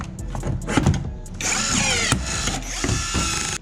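A power drill bores holes in the aluminum hull of a 14-foot Alumacraft jon boat, with scattered clunks and handling noises giving way to a loud, sustained whining drill run that briefly dips and restarts.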